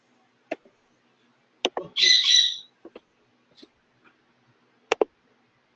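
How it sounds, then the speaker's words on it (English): A pet parrot indoors lets out a single harsh squawk lasting about half a second, set among sparse clicks and taps in an otherwise quiet room. "Is that parrot making noise?"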